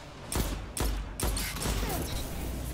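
Three sharp hand cannon shots crack in quick succession in the shooter game Destiny 2, each a loud punchy blast, followed by lingering in-game combat noise with no talk.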